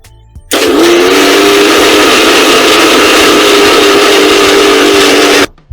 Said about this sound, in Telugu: మిక్సీ పట్టుకోవాలన్నమాట